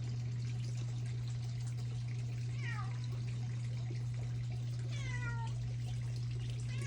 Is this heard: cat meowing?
yes